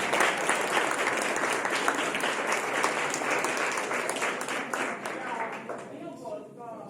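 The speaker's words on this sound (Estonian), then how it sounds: "veel üks suur aplaus neile kuulub ära" An audience applauds loudly and steadily, with dense clapping close by that tapers off near the end, and a voice speaking over the applause.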